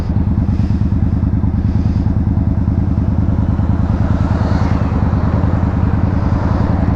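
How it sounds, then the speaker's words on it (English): A Suzuki Marauder bobber motorcycle engine drones loud and close while being ridden, a steady rapid throb with wind noise and no talking. "I just love the sound of this bike."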